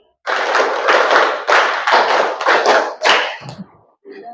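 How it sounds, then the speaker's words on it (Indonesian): A classroom group claps together in short rhythmic bursts, the counted claps running in tight clusters, loud and close, before a brief pause and a softer final tap. "Tepuk 5 2 kali"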